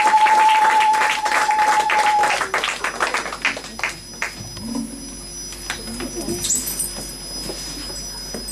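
A church congregation applauds and claps loudly and densely for a few seconds, then the clapping thins out into scattered claps with murmuring voices and a faint tone in the background.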